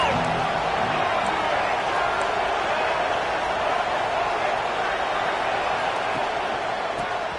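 Stadium crowd in a college football video game, an Arkansas game on third down, rising into a constant, loud, wall-like roar that holds steady without a break.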